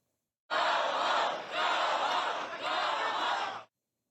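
A crowd of protesters at an LA street protest roars and shouts together in a sustained, loud wall of voices lasting about three seconds, swelling in a few waves before cutting off abruptly.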